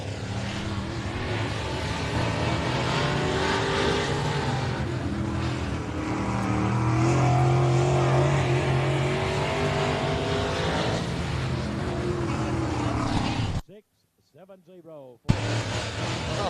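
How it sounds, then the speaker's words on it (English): Race cars circle the Wartburg Speedway short track, a steady, loud engine roar sustained for most of the stretch and broken by a brief near-silent gap, with commentary running over it. "The 15S Selena Burge out on the racetrack."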